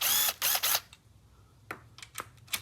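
A ratchet wrench on an extension turns bolts during a tune-up on a Ford Focus, with quick bursts of close clicking separated by short pauses and no talking.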